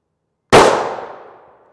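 Rifle round striking an ultra-high-molecular-weight polyethylene (UHMWPE) armor plate, fired with surplus ammunition: one sharp loud impact crack after half a second of silence, decaying over about a second.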